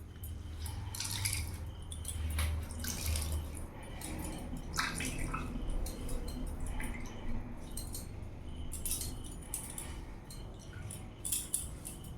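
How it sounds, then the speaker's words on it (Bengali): Water being wrung out of chhana through a cotton cloth, with soft wet squishing, trickling and dripping running steadily throughout, fairly close and quiet, no talk. "এরকম একটা সুতির কাপড়ের সাহায্যে ছানাটাকে নিয়ে ভালো করে জলটা আমি এইভাবে বার করে নেব নিংড়ে"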